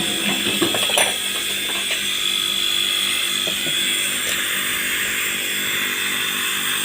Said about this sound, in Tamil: பவர் கொடுத்த உடனே கம்ப்ரஸருடைய நாய்ஸ் வந்து செக் பண்ணணும்.